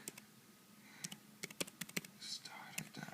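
Someone types in quick, uneven clicks on a Crux Skunk iPad keyboard case, close up, with quiet whispered talk underneath.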